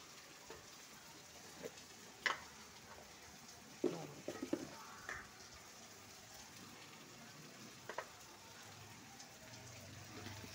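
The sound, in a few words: cumin powder frying in a pan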